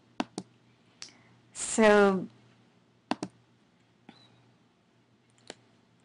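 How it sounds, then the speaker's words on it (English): A computer mouse clicks sharply in pairs and singles, spaced irregularly while paths are set in Prezi, with a short spoken word in the middle. "So I'm just going to click them in order."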